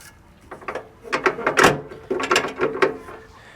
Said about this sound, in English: it sounds like there's gears moving back there.